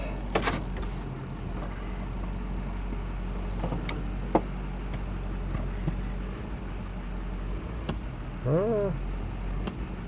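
A GMC 2500HD pickup sits at a low, constant engine hum while it is shifted into reverse against the park brake, with scattered mechanical clicks and a brief rising-and-falling whine near the end.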